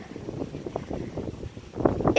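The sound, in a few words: wind blowing outdoors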